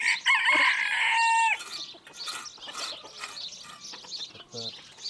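A rooster crows loudly and close in one long call lasting about a second and a half, followed by softer clucks, chirps and other fowl noises, with people talking nearby.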